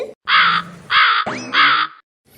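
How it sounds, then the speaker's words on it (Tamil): A cartoon crow caws three times in a row, loud, close and harsh, with a short rising squawk between the second and third calls. "காக்கா பறக்குது"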